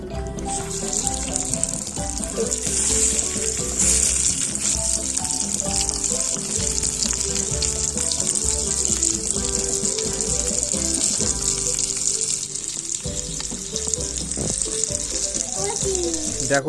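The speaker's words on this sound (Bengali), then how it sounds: "এটা সত্যি সত্যি মাছ ভাজা হচ্ছে" Fish sizzles steadily in a tiny miniature pan, a continuous bright hiss that holds evenly throughout, with music playing alongside it.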